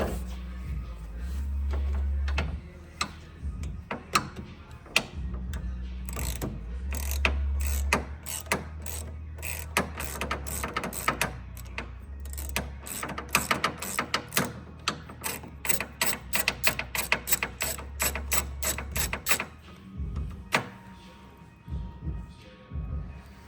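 Ratchet clicking away at the carburetor manifold bolts on a mini jeep with the motor in the front, fast bursts of close metallic ticks with short pauses between runs, steady and fairly loud, with no talking.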